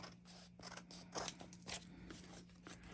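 Scissors snip through scraps of paper in quick, quiet cuts, several crisp snips in close succession over a low steady hum.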